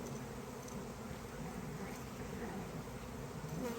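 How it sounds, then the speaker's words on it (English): A honey bee swarm fills the air with a continuous, close buzzing drone from many bees flying together, steady throughout with no talking. "There's a lot of bees."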